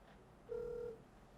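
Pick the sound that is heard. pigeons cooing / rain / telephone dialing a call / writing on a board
telephone dialing a call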